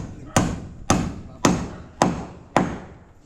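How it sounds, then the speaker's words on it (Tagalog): A hammer strikes corrugated metal roofing sheets five times at a slow, even pace. Each blow is a sharp, loud, close impact that rings briefly before the next. "Uy, abot na may martilyo."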